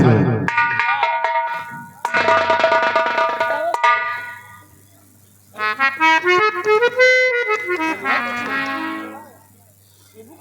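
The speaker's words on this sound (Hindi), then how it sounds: "सिपाही सेनापति शेर सिंह को फोन कर दो" A telephone ringtone during a nautanki folk theatre performance: a bright, electronic melodic tune that plays in phrases with brief pauses, loud and close over a low steady hum.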